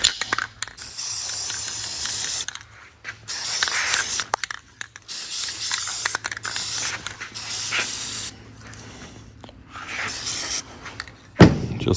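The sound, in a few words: spray can spraying paint over rust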